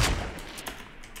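Gunfire in the video game Fortnite, a loud sharp report at the start followed by a second shot and quicker fainter pops, with no talk over them.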